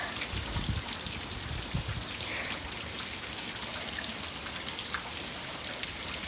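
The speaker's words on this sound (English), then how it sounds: "the rain's pretty cold" Cold rain falls steadily with scattered raindrops and soft patters on nearby surfaces, quiet and continuous, with a few low bumps early on.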